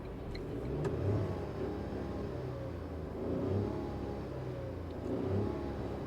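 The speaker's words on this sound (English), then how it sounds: "now I'm going to rev the engine and I'm going to shut up for a while so that you can listen only to the engine." A 2020 Tata Nexon petrol manual engine revs while stationary, heard as a muffled low hum rising and falling in three gentle swells, steady and fairly faint, with no talking.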